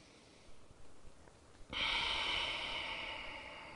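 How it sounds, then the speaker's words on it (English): Slow, close breathing during a reclined hamstring strap stretch, a few soft breaths followed by a long, louder exhale. "Three more breaths."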